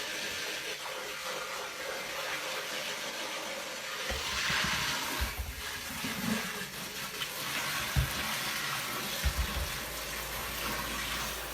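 Tap water running steadily into a cooking blender jar during a rinse, a soft hiss with a few brief knocks and splashes as the jar is handled.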